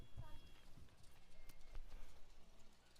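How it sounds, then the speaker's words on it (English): Harness racing horses at Kawartha Downs walk toward the starting gate, their hooves clip-clopping in an irregular, moderately close rhythm under a race announcer's voice. "Horses moving up to the gate from the rail out."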